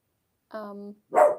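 A nearby dog gives a short whining yelp and then a sharper bark, two quick sounds in an otherwise quiet room.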